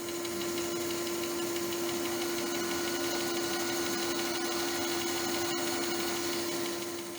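A power tool runs continuously at a steady pitch, cutting a notch in a wheel in a woodworking shop, with a loud even whine and a brief sharp click near the end.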